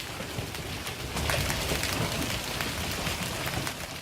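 Hailstorm in Del Rio, Texas, with dense, constant pelting of stones striking surfaces, a roaring wash of impacts that grows slightly heavier after the first second.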